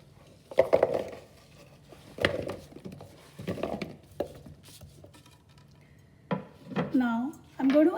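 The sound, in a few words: chunky vegetables being added into a bowl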